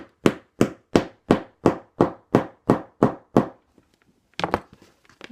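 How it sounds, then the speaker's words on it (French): A hammer drives a metal rivet through a leather handle, landing about ten sharp, evenly spaced blows close up, then a brief pause and a few lighter taps. "Et vous venez taper au marteau."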